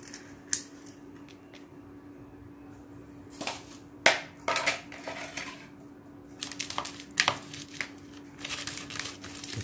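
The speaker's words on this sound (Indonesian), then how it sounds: "Kita haluskan dulu telur asinnya sobat." Salted eggs, whites and yolks together, mashed up to make carp fishing bait: scattered crinkly crushing and scraping noises at close range, sparse at first and busier toward the end.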